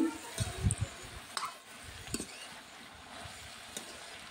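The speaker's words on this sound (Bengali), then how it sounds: "আরও নাড়াচাড়া ভালো করে নিতে হবে" Spices fry in a hot pan while being stirred, a faint sizzle under scattered scraping clinks of the spoon against the pan, with a soft voice nearby.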